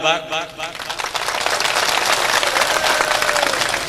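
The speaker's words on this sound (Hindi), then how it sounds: "आप अगर सुनना चाहते हो तो मुझे तालियां बजा के बता दो एक बार।" A comedy show audience breaks into applause, building from a voice at the start into loud, dense, sustained clapping from a large crowd.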